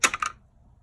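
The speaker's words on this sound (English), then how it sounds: "So knock that out of there." Two quick sharp knocks as a dust cover is tapped out of the back of the sector shaft on a Sheppard power steering gear, close and crisp, then quiet.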